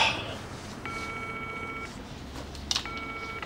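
Telephone keypad tones from the video game Still Wakes the Deep: two sustained dial beeps about a second apart, clear over a low ambient rumble.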